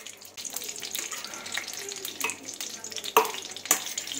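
Wheat flour frying in homemade ghee made from milk cream, a steady soft sizzle with occasional stirring scrapes and a couple of sharper clinks near the end, heard alone at moderate distance.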